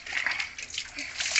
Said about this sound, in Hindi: लोट लोट के नहा रहा हूँ